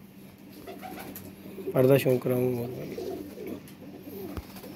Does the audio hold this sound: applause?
no